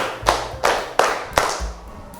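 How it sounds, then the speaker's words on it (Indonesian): A classroom group claps in unison during an ice-breaking counting game, four crisp, evenly spaced claps that ring out loudly with a slight room echo, and no one speaks. "Saya melakukan ice breaking hitungan tepuk 1, 2, 3, 4, 5"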